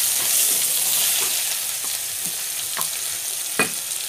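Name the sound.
chopped onion and nigella seeds frying in oil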